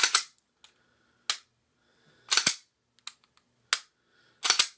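Dry trigger clicks from an empty, unloaded Smith & Wesson M&P 40 pistol with a stippled grip, with sharp snaps and smaller reset clicks coming in an uneven pattern of about six, close and clear with no talking.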